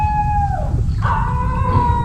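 Dogs trapped by floodwater howl and cry in long, wavering, mournful tones close by, one howl sliding down and another rising after it, over a background of rushing water.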